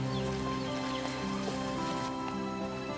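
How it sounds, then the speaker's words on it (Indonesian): Heavy rain falls outdoors in a steady, close wash of patter. Faint background tones run underneath, and no one speaks. "Udah tambah deras ya Pak hujannya"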